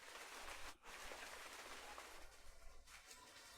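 Steady rain falls on a rainy night, a dense even hiss of drops on surfaces that holds throughout with one brief dip, no voices present.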